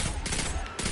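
Rapid auto rifle gunfire from a Destiny 2 Crucible match, a dense continuous stream of shots with a brief dip near the end, loud and close.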